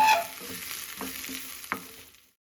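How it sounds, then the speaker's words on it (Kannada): Garlic, curry leaves, green chillies and sliced onion fry together in oil, a soft close sizzle with a few spoon-stirring taps before it cuts off. "ಬೆಳ್ಳುಳ್ಳಿ, ಕರಿಬೇವು, ಹಸಿರು ಮೆಣಸಿನ್ಕಾಯಿ ಖಾರಕ್ಕೆ ಎಷ್ಟು ಬೇಕೋ ಅಷ್ಟು, ಹಾಗೆ ಒಂದು ಈರುಳ್ಳಿಯನ್ನು ಉದ್ದಕ್ಕೆ ಹೆಚ್ಚಿ ಇದನ್ನು ಸಹಿತ ಫ್ರೈ ಮಾಡಿ"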